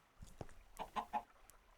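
A few quick, soft clucks from chickens in the Minecraft Tekkit 2 modpack come in a short burst of three or four calls, faint and without speech.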